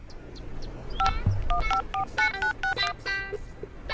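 A telephone number is dialed as a quick series of distinct touch-tone beeps, a few single tones then rapid clusters, clear and close over a faint background.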